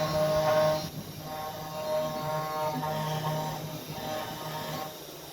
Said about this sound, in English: When we're finished, the X and Y will stop. The Z will lift to about 44 mil above the timber.